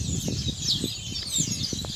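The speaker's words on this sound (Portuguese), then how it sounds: "O som dos pássaros." Birds chirping outdoors among trees in a rural setting, several thin high calls weaving over a faint low background hum and occasional soft knocks, fairly distant and steady.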